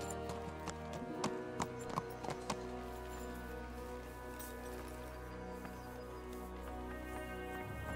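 Hooves of a horse in a medieval video game clip-clop at a slow walking pace over a steady low hum, with a few sharper taps early on before the steps settle into an even rhythm.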